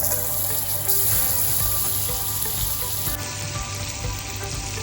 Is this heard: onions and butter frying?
yes